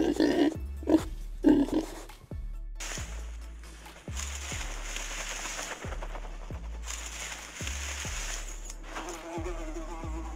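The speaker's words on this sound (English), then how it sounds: "Fly." Housefly buzzing close by, a steady insect drone with repeated short bursts and sharp low thumps scattered through it.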